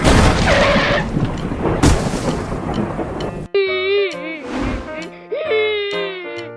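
Heavy rain hisses, and deep thunder rumbles and cracks, then cuts to a quieter scene with melodic voices and tones.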